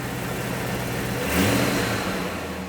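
A Land Rover engine with a sticking throttle runs loud and close, swelling into a brief rev about halfway through before settling back to a steady drone.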